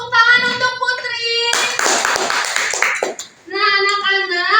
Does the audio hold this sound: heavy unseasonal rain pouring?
no